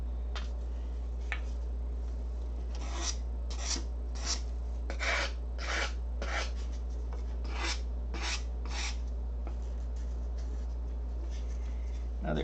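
Balsa wood hardened with a CA coating is sanded in a quiet room, giving a series of short, crisp rasping strokes in an uneven rhythm, close and fairly soft, over a constant low hum.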